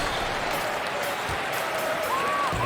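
A basketball arena crowd in NBA 2K21 at the Staples Center, home team Lakers, claps and cheers in a steady wash of applause with a few louder rising shouts mixed in.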